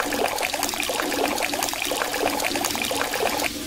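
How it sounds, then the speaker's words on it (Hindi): Shower water in a hotel bathroom running again after stopping, a steady loud splashing and trickling stream continuing for several seconds before dropping slightly at the end. "पानी फिर से आ जाता है"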